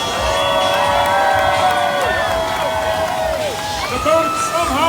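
At a whitewater build-your-own-boat race, an outdoor crowd cheers, whoops and applauds continuously, with kids shouting and an announcer's voice over the noise.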